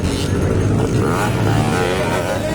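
A Yamaha enduro motorcycle revs hard at a local race in Pangantukan, Bukidnon, its loud, close engine growling and shifting pitch over a steady rumble with no talking.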